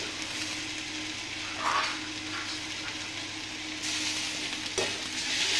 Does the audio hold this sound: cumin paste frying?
yes